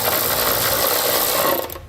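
A ratchet turning a 1/2 inch socket to remove heat shield bolts on a 2015 Chevrolet Silverado 2500: a close, continuous rapid mechanical whirring-clicking for about two seconds that then stops.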